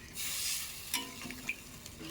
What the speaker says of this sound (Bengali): কষানো হয়ে গেছে, দিয়ে দিচ্ছি গরম জল।